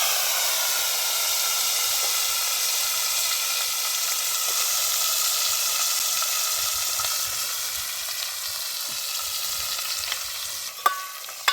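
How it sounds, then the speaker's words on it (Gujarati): Cluster beans tipped into hot oil tempered with mustard seeds, cumin and asafoetida give a loud, continuous sizzling hiss throughout, with a few small clicks of the pan near the end. "વઘાર આપણો સરસ એવો આવી ગયો છે તો ગુવાર નાખી દઈશું"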